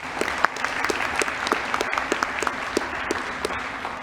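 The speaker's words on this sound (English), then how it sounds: "Big round of applause." Audience applause at a high school senior awards ceremony, a moderate steady patter of clapping with a few sharper individual claps standing out, lasting around four seconds with no voices.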